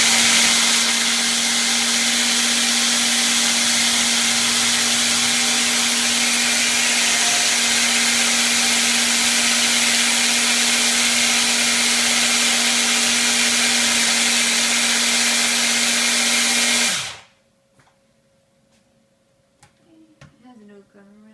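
A blender whirs loudly and steadily, blending banana into a raw vegan chocolate coconut dessert, running for about seventeen seconds before cutting off abruptly, followed by faint clinks and quiet handling.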